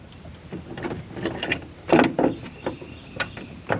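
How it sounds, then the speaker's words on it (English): A lock washer and nut being fitted under the bed rail of a Jeep Gladiator during a 4WD bed rack installation, producing close metallic clinks, rattles and small ratcheting mechanical sounds in an irregular sequence, no talk. "and attach my lock washer and my nut."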